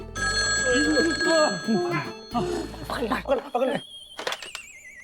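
A telephone rings in repeated electronic bursts while people talk over it, the ringing stopping as the voices continue.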